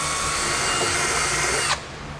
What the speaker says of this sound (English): We can just drill a small hole in it, just large enough for our wires.